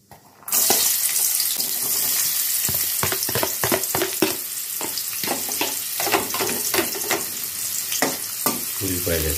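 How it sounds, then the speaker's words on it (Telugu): Sliced onions hit hot oil with cloves, cinnamon and cardamom for a soya chunk curry, bursting into a loud close sizzle that continues steadily with repeated stirring scrapes and no talking. "ఉల్లిపాయలు వేసుకున్నాం. బాగా యాగాలి."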